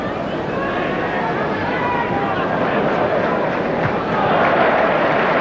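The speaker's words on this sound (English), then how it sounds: "Applause from the Goodison crowd" Steady roar of a football crowd applauding at Goodison Park during a 1982 Everton versus Manchester City match, dense and continuous throughout with a slight swell near the end.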